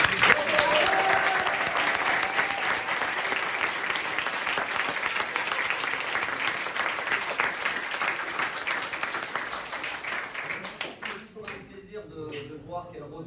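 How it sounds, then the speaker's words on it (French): An audience at a show applauds with sustained, dense clapping that holds steady for about ten seconds, then thins out and fades as a voice begins speaking. "Donc je voudrais qu'on les applaudisse"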